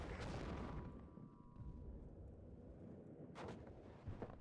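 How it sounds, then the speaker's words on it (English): Cluster high-explosive artillery shells landing in a WARNO real-time strategy game, a loud rumbling blast at the start that fades into a low roll, then a second sharper impact a few seconds later. "And now the cluster HE artillery, I believe, got some shells in."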